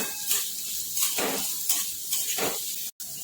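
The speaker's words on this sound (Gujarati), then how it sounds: "મિક્સ કરી લઈશું અને થોડું અચકચરું આપણે એને શેકી લેવાનું છે" Finely chopped cabbage being stirred and roasted in a pan for moong dal pudla, giving a soft sizzle with repeated scraping and stirring strokes at a close, even level and a brief silent gap near the end.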